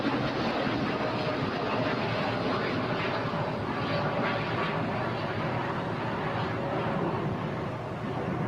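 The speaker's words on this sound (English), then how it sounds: "before I almost missed the American Dreamliner taking off" An American Airlines Dreamliner takes off at LAX, filling the air with a sustained, broad jet roar that stays steady and moderately distant throughout.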